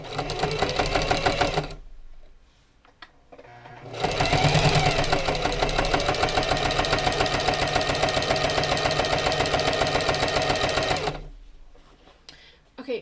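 A sewing machine runs in close bursts of rapid, rhythmic stitching, a short run, a pause, then a long steady stretch of about seven seconds before stopping.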